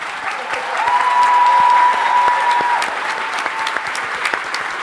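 A conference audience at an opening plenary session claps steadily and loudly, a dense indoor crowd applause holding for the whole stretch with scattered sharper claps, no voices over it.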